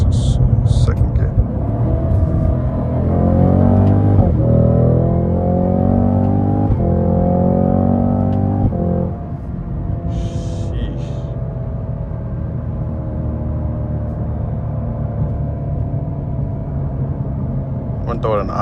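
Cadillac CT5-V Blackwing pulling hard in second gear, engine note climbing steadily and loud for about nine seconds, with rising harmonics and shift breaks, then dropping to a lower steady cruise drone with brief clicks.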